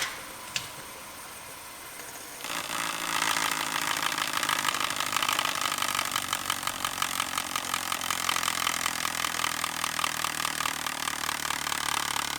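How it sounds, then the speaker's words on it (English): A worn car wheel bearing with a grinding, growling noise: a quiet start, then a steady, rough mechanical drone with fast regular ticking that holds at an even level, close and with no voices. "When a bearing starts to go bad, it makes noise, and typically that noise is described as grinding, growling, whining."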